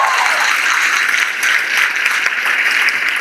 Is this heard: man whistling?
no